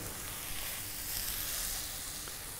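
A steady, hissing sizzle of food searing in hot oil in a frying pan, for spinach pasta, carries on without a break, close and fairly quiet.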